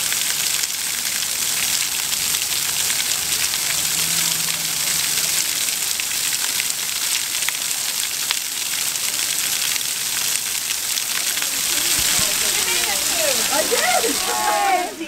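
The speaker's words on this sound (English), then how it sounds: "Look at this waterfall." A waterfall at an outdoor geocaching spot, a loud, continuous broadband rush of falling water that fills the whole scene, with people talking faintly beneath it near the end.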